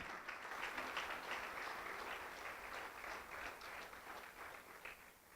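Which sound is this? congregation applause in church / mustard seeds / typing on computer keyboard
congregation applause in church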